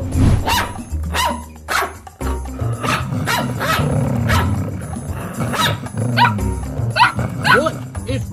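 Cartoon dog in an Among Us animation barks and growls, loud and close, mixed with overlapping animated character voices and busy sound effects throughout.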